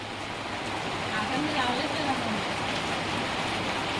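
Steady rain pours down as an even, dense hiss of falling water that stays at a constant level through the whole stretch, with no distinct drops standing out.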